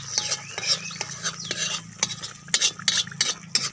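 Leaves frying in hot oil in a pan for an Assamese fish curry, stirred with a metal utensil that scrapes and clinks in irregular strokes over a steady sizzle.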